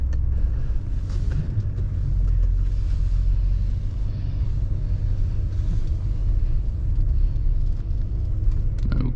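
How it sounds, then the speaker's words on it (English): A 1981 Cadillac Eldorado on the road, with a steady low engine and road rumble filling the cabin, continuous and fairly loud with light wind noise and no talking. "welcome back to the driving portion on this 1981 Cadillac Eldorado"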